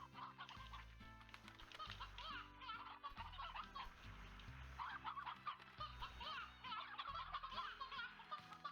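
Chickens cluck in an upgraded coop in the video game Slime Rancher, a busy layer of bird calls over a rhythmic, bass-heavy music loop, played fairly quietly with no talking.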